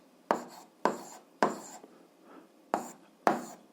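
A pen writes on paper while an eighth-grade algebra exercise is worked out. Five quick scratchy strokes come at an uneven pace, close and fairly quiet, each starting sharply and trailing off, with no voices over them.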